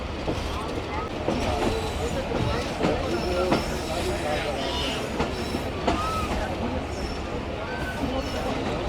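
Musa Pak Express railcar train running, a dense continuous rumble of wheels and carriage noise with rhythmic clacking, heard from on board over loud crowd chatter.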